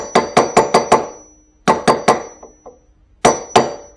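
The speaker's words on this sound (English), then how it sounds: "taking 2 tabs that are on the flat part of the nut and attempting to use a drift to stand them up" Hammer driving a drift against the tabs of a nut on an axle stub, sharp ringing metallic blows in quick bursts of five, three and two strikes, loud and close with short decays.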